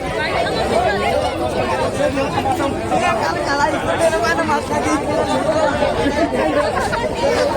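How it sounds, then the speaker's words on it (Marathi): Dense crowd chatter at a packed Sativali village jatra fair, a steady babble of many voices close around with no pauses throughout. "ही गर्दी कशी आहे."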